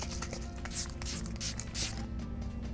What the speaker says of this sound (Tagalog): Easy All Day Setting Spray.